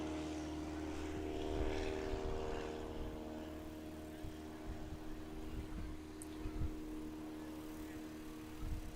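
A STOL airplane at a swamp STOL competition in Jennings, Louisiana, taking off at full power: a steady, droning propeller engine roar with a sustained harmonic hum, moderately distant and fairly even throughout.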